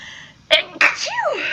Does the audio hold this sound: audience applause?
no